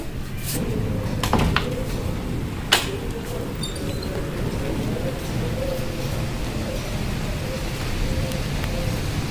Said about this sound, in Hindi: लेकिन बारिश हो रही है अभी भी।